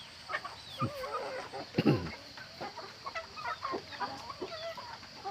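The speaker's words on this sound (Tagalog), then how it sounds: "Pakainin namin yung aming mga alagang manok" Chickens cluck in short, overlapping bursts throughout, with one louder squawk near the middle, set against a steady outdoor hiss.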